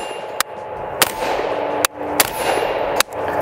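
Five sharp, loud rifle shots from a Desert Tech Micron fitted with a Raiden muzzle brake crack out at slow, irregular intervals, each followed by a brief ringing decay over outdoor background noise.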